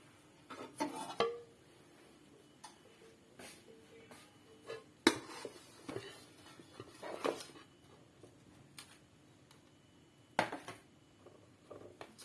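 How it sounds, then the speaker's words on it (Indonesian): Pudding in a pot being stirred, with scattered clinks and scrapes of a utensil against the pot at irregular intervals, close and fairly quiet, with no talking. "Kita akan mengaduk ya bunda ya."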